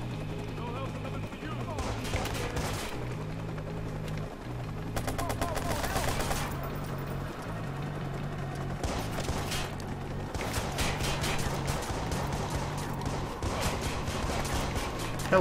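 Video game gunfire in Watch Dogs, with rapid automatic bursts coming in irregular volleys over about fifteen seconds, sitting beneath someone talking and a low musical drone.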